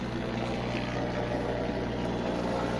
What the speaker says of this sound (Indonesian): pesawat lewat